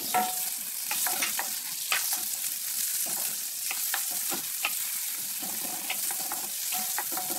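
Onion and tomato sautéing in a pan for pork sinigang, a steady close sizzle with frequent stirring scrapes and small pops throughout, with no talking.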